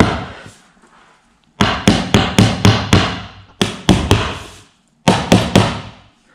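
Loud hammer blows strike IKEA Alex drawer and desk parts in quick rhythmic clusters of four to six, separated by brief pauses, close and sharp.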